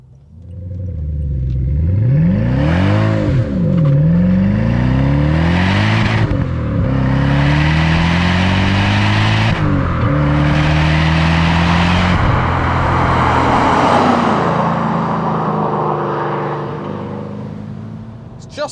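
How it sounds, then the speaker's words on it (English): Maserati 3200GT engine revving hard as the car accelerates up through the gears, rising pitch swept repeatedly with brief dips at each shift, loud and continuous from inside the car. "Let's just take it up through the gears once again."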